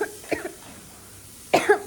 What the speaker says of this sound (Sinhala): කැස්ස.